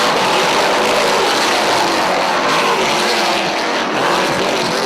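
Dirt modified race cars at Airborne Speedway in Plattsburgh, New York, coming off turn four under green, a dense, loud, continuous engine roar filling the whole stretch.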